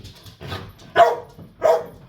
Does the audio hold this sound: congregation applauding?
no